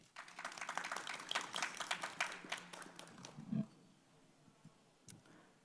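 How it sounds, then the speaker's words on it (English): Audience at a panel conversation applauding the speakers, a scattered patter of clapping that swells then fades after about three seconds, leaving quiet room noise with a faint knock. "please do join me in giving our speakers today a very warm round of applause"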